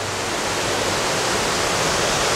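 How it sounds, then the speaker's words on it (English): Waterfall at Harpers Ferry, a steady, loud, full roar of falling water that runs unbroken throughout with no voices. "Show you that waterfall one more time before we roll."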